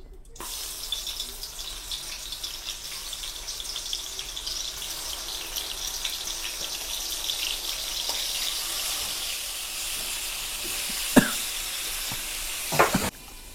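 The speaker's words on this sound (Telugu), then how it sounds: "మనకైతే ఇదే ఆయిల్లోకి టమాటాలు అయితే వేసుకుందాం" Tomatoes dropped into hot oil in a pan, giving a steady soft sizzle and hiss that holds for over ten seconds, with a few sharp clinks and scrapes near the end.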